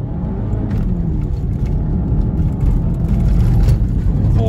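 An Audi A4 2.0T Quattro engine roars steadily at full throttle in snow on snow tires, traction control off, a loud continuous low rumble with broadband road and tire noise throughout.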